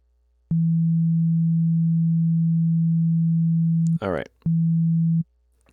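A steady electronic sine tone in Ableton Live holds for about three and a half seconds, breaks for a brief chirpy burst, then returns briefly before stopping.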